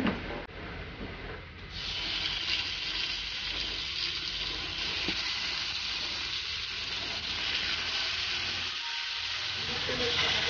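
Pork belly liempo sizzles steadily on an oiled grilling pan, a close, continuous hiss of hot fat that holds at an even level throughout with no talking.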